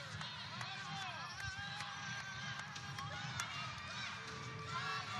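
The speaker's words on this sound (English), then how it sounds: "Crowd starting to get into this one as they can feel Nevada on the precipice of a big win at home" The home crowd at a Nevada women's basketball game against Boise State keeps up a steady, dense roar, with sneaker squeaks and whistles cutting through and voices mixed in.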